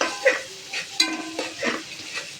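Mint and coriander leaves sautéing in a pan for vegetable biryani, a close, brief burst of soft sizzling with several rhythmic stirring scrapes.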